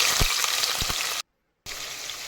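Cinnamon, cloves and cardamom fry in hot ghee for a mutton biryani with a bright, continuous hissing sizzle and a few low pops. The sound cuts out briefly in the middle, then resumes.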